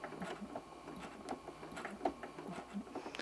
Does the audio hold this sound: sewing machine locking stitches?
yes